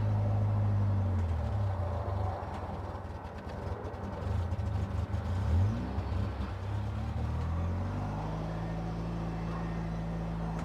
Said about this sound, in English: We're officially driving a rock crawler.